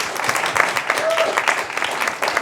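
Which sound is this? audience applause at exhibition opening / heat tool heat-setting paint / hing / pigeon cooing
audience applause at exhibition opening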